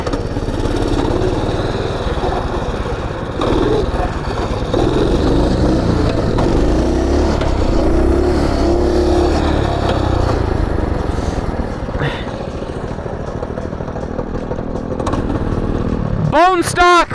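A bone-stock minibike engine idles and revs with a steady, buzzy small-motor drone throughout, close by on a cold day, while people talk over it and a sharp rising rev bursts out near the end.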